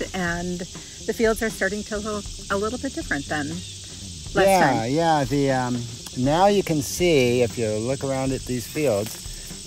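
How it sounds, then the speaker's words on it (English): Cicadas buzz steadily and loudly through a Virginia late-summer prairie on a bright, sunny mid-August day, a continuous high drone running beneath two people talking throughout. "you can hear the cicadas in the background"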